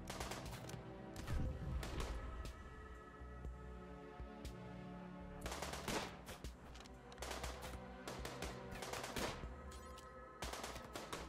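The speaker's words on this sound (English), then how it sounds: "Gwen got shot" Video game gunfire from a RimWorld siege, rapid bursts of automatic and single shots over a continuous hum of game music, quiet and in clusters.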